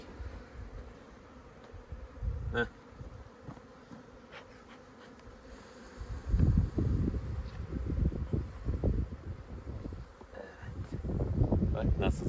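Honey bees buzz in a steady drone around a hive during a beekeeping job to clear out a false queen, some flying up toward an upper box, with wind noise and people talking over the swarm.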